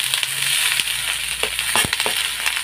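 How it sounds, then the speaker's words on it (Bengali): Okra and potatoes fry together in a pan on a home stove, giving a steady, close sizzle with scattered crackles and soft stirring scrapes throughout. "এখন আমি আলুগুলো সব দিয়ে দেবো, একসাথেই ভেজে নেব"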